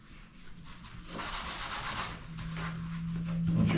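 High edges are sanded down by hand on the plastic seat pan of a BMW G310GS seat, the rasping strokes growing steadily louder over a few seconds.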